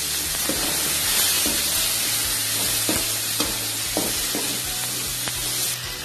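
Capsicum and tamarind sauté in a hot pan for chutney, a continuous loud sizzle broken by repeated spatula clicks and scrapes as the mixture is stirred.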